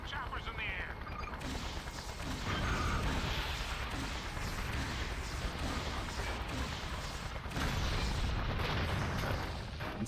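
In the Just Cause video game a helicopter blows up amid a dense, loud wash of explosive booms and gunfire that stays steady and swells twice, with voices talking over it.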